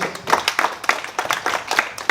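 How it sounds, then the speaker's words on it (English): A smaller audience claps after a presentation on poultry farming, sparse distinct hand claps in an uneven rhythm, fairly close, with individual strikes standing out rather than a dense roar. "Let's give a nice round of applause."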